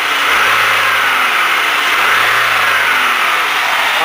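A 2.2-liter engine in a Pontiac Sunfire with a worn upper motor mount revs in two swelling bursts, a loud, close, steady mechanical drone rising and falling without any talk.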